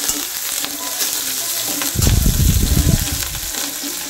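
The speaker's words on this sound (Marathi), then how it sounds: "गॅसची फ्लेम जरा बारीक करा, कारण ठसका वगैरे होतो, त्यामुळे थोडा बारीक फ्लेमवरच करत जा मिरच्या फ्राय" Green chilies frying in hot oil on a low flame, a steady sizzle with a louder bubbling burst midway as they are stirred.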